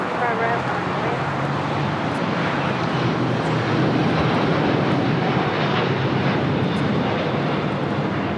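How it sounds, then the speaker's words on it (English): A LATAM Boeing 787-9 Dreamliner rolls for takeoff toward Sao Paulo at LAX, a loud continuous engine roar filling the scene with faint background chatter mixed in. "And now we have Latam 8087 on the roll. 787-9 Dreamliner taking off to Sao Paulo"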